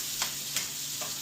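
Onions sautéing in a pan for pork belly kaldereta, a steady close sizzle with three soft stirring scrapes spaced across a brief moment.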